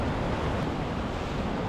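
Steady wind gusts across the seaside by a yacht marina on a day with some swell, a constant broadband rush with the wash of the sea mixed in.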